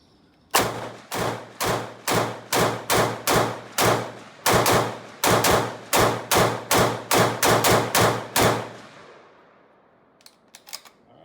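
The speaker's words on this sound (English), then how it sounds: "let's send some rapid fire rounds at 25 yards using the V-notch and just see how it does" A Heckler & Koch HK33K rifle fires about twenty rapid rounds at a 25-yard range in an uneven stream of loud, sharp cracks, then stops. A few faint clicks follow.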